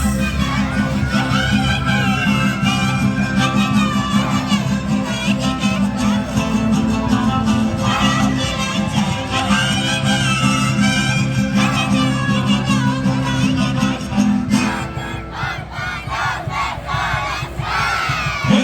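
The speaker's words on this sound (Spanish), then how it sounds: "¡Fuerte los aplausos!" Large crowd at an outdoor dance festival in Lircay roaring, whistling and clapping for a troupe of more than 150 dancers, a dense, loud, continuous wall of cheering with music underneath that thins slightly near the end.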